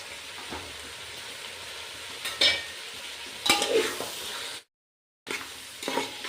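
Spices for vegetable pulao stirred in a hot pan, a low continuous sizzle with scraping spatula strokes and small clinks, close and fairly quiet, with one abrupt moment of silence.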